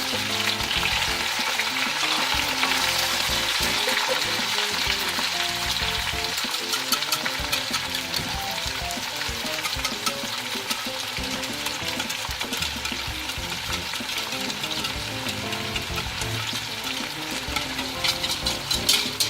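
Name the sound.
chicken frying with tomatoes in pan for biryani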